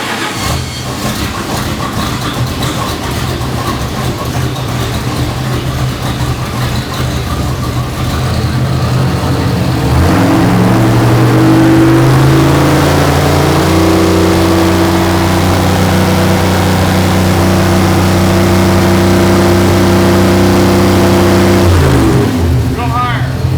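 A car engine on a dynamometer revs up from a steady idle to around 3,000 RPM and holds there, a loud sustained drone with rising harmonics, then drops back near the end; voices talk over it.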